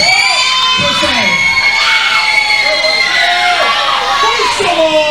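A wrestling crowd at a CWF Eternal event shouts and chants loudly and continuously, drowning out a speaker at the ring, with voices rising and falling in waves throughout.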